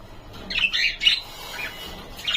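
Cockatiels and lovebirds squawk in loud, sharp bursts while eating water spinach. The calls come in a quick cluster in the first half, then return briefly at the end, with no talking.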